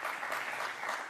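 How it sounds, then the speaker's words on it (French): Short burst of dense audience applause, steady and fairly close with no pauses. "on peut vous applaudir quand même"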